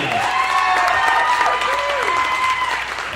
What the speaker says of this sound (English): we can get a nice big round of applause once again for Barry Bostwick, Nell, and Patricia Quinn